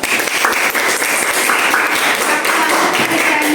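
A group of about eight students in a classroom clapping together, dense steady applause held at an even level throughout.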